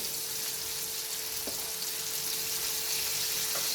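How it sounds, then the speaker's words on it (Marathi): Prawns (kolambi) fry in a pan for a Malvani-style dish, giving a steady, close sizzle with a couple of faint clicks from the utensil and no voices. "हे बघा, हे छान आपण परतून घ्यायचं. पलटी मारायची छानशी."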